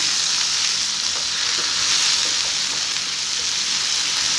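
Finely chopped medium-sized tomatoes fry in a pan for aloo anday ka qeema, with a loud, steady, close hiss of sizzling that holds unbroken throughout and no voices.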